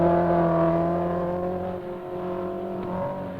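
A race car engine drones steadily at the 1972 Knox Mountain hill climb in Kelowna, BC, a loud sustained harmonic hum that dips briefly and then climbs again, with no voices.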